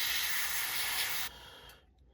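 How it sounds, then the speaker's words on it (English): A Gaahleri Mobius 0.2mm airbrush sprays paint onto fishing lures in a steady close hiss that cuts off abruptly partway through, leaving faint residual hiss and near silence. "Just spray them light."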